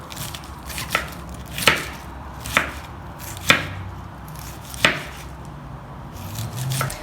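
A knife cuts food on a chopping board with about six sharp, evenly spaced taps close by and nothing else in between.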